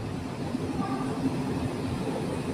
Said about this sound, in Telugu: పక్కన రైలు చూసారా,